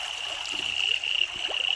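Water running along a large canal that feeds a village pond, a steady continuous flow close by with no talk over it.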